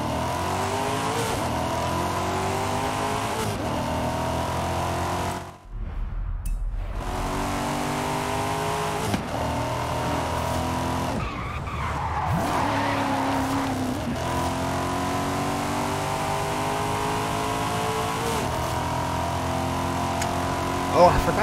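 A Volkswagen Vocho (classic Beetle) in the Forza Horizon 5 racing game drives with a steady engine drone and rising and falling gear revs, with tire skids partway through and a voice talking over parts of it.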